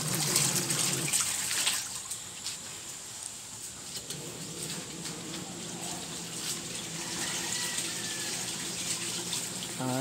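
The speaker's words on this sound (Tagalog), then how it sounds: "binabanlawan muna namin" Laundry being rinsed in water before going into the washing machine: a steady close stream of running water splashes and trickles, a little louder at the start, then settles into an even flow.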